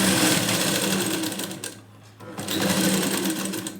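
A sewing machine stitches a blouse with a rapid, even whirring clatter close by. It pauses briefly midway, then resumes at full speed.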